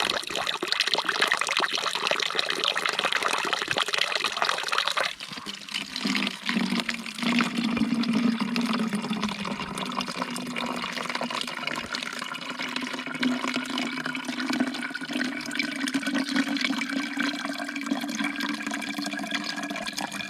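Water from a source near a trail shelter in the Grayson Highlands being filled into backpacking bottles, a loud continuous pouring gush that shifts to a lower gurgling fill tone as the bottles take on water, steady with no talking.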